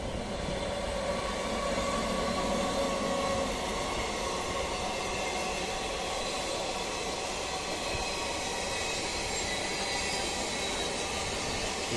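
A Sealdah–Lalgola passenger special train runs through Kankinara station on the Kolkata suburban line, making a loud, continuous rumble and hiss of wheels and carriages that holds steady for the whole stretch.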